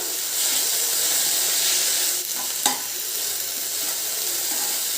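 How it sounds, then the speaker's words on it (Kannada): Coriander leaves fry in a pan for chutney, a close, steady hiss of sizzling with one brief stirring knock in the middle. "ಕೊತ್ತಂಬರಿ ಒಂದು ಸ್ವಲ್ಪ ಚೆನ್ನಾಗಿ ಫ್ರೈ ಆಗಬೇಕು"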